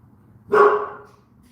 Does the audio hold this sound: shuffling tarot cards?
no